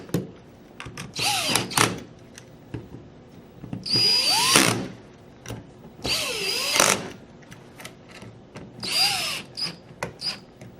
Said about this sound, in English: we'll go ahead and snug these screws back down